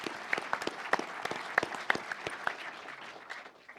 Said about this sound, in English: How about a warm round of applause for First Sergeant Rodriguez Borges